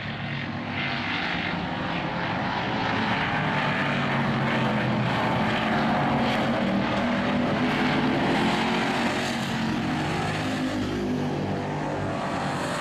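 Race cars roar around a dirt oval track in a continuous, loud, dense engine drone that swells slightly mid-pass, with no talk over it.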